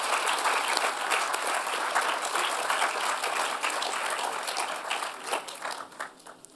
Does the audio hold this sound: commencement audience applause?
yes